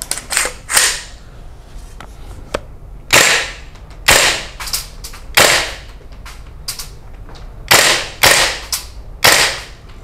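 An airsoft gun fires a string of sharp, loud single pops at irregular intervals, with quieter mechanical clicks between shots.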